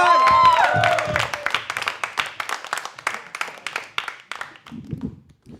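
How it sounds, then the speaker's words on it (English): A crowd at a live stand-up comedy show claps and applauds steadily, starting with a loud whoop and thinning gradually into scattered claps before fading near the end. "keep the applause going for your next comedian"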